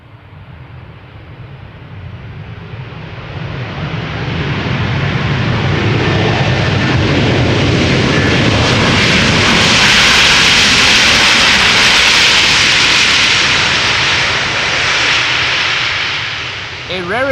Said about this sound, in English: A rarity here in the stream today, the application of reversers.